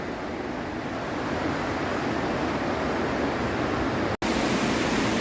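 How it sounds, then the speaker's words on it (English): Water rushes through an underground river tunnel beneath a town, a loud continuous broadband roar close by with one brief dropout near the end. "Here, water flowing faster up ahead, so maybe come across a surprise underground waterfall again."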